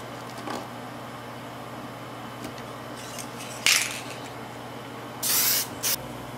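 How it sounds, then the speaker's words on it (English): Testors gloss coat sprayed onto an HO-scale Norfolk Southern model locomotive: short aerosol hisses, one sharp burst partway through and a longer spray near the end, against a quiet room hum. "I'm just going to simply use some tester's gloss coat and apply about one or two coats for the locomotive"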